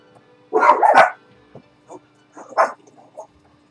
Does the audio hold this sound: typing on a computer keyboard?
no